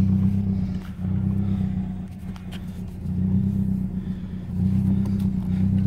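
A Mazdaspeed6 car driving, its engine drone steady and loud from inside the cabin, dipping briefly and then swelling again with light rattles over the road.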